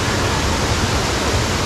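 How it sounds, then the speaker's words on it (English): Water pours continuously from a shady waterfall in Paraty, a close, loud, even rushing roar with no break or voices over it. "quite a shady area here and nice waterfall here"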